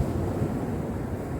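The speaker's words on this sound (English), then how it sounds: "There's a few big waves coming in, but nothing too bad. Got a bit windy down here." Steady surf and wind on a rough, breezy shore at Corton, a constant low roar of breaking waves with gusty rumble, no voices.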